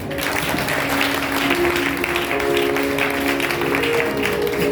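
A church congregation applauding, steady continuous clapping from a large crowd filling the room, moderately loud, with faint voices mixed in.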